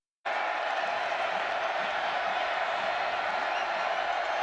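A steady roar from a college football stadium crowd in the north end zone at Montana, behind the Cal Poly quarterback on third down, a dense sustained wash of voices at full volume with no break.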